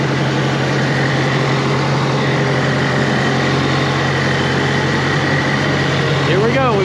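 A used roller's engine idles with a steady, loud, low rumbling drone at a stone-spreading job, with some talk under it.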